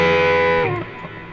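A sustained chord from a Donner Arena 2000 electronic keyboard rings out, then drops away into a washy reverberant tail.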